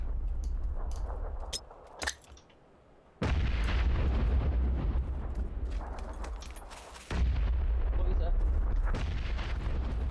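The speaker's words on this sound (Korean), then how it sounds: "내 앞에 수류탄 파티다" Grenade blasts in an online shooter video game: loud, booming explosions with a heavy low rumble, several bursts in quick succession separated by a brief lull.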